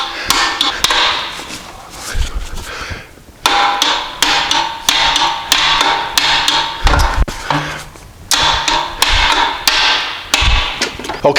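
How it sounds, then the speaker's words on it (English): Hammer blows on a steel drift, knocking out a car's rear wheel bearing: close, sharp metallic strikes in rapid bursts, with brief pauses between the series and no talking. "I'm going to have to drift it out from the other side."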